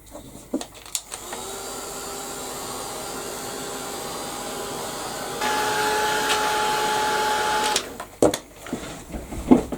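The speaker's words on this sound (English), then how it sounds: "I'm just going to give that a quick blast with the heat gun." A heat gun blasts hot air across a paper journal page in a steady, loud blowing hiss. It runs continuously for several seconds, rises in pitch and intensity partway through, then cuts off with some handling noise.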